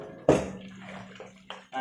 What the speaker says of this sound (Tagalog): yung karne, lalagyan natin ng tubig